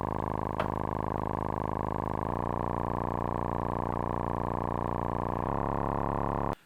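Modular synthesizer tone with control-voltage-driven distortion, a sustained buzzy, harmonically rich drone that shifts timbre in a few steps before cutting off abruptly.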